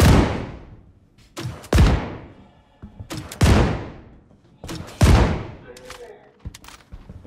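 Grenade launcher firing in Star Citizen, four heavy booming blasts spaced about every one and a half seconds, each decaying into a rumbling tail, close and loud with smaller thuds between.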